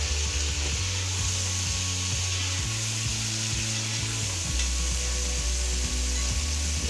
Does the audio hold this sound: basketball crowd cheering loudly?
no